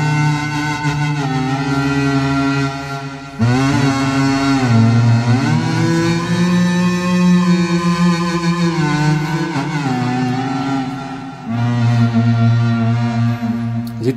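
A Soma Pipe synth runs through a pitch shifter, giving a loud, buzzing, distorted tone with rich gliding overtones that shifts pitch in sustained sections, briefly dropping out and returning.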